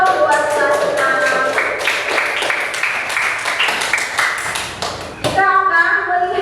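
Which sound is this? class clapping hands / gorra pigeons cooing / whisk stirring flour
class clapping hands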